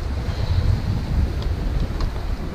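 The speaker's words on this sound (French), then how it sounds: "Alors là, le vent s'est bien levé." Strong wind buffets the microphone on a sailboat crossing the Strait of Gibraltar under sail with the engine off, a steady loud roar and rumble with faint water wash beneath, no voices.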